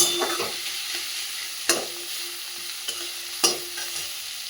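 Onion frying in a pan for a snake gourd and prawn dish, a steady close sizzle broken by three sharp spatula scrapes and stirs, with no voices.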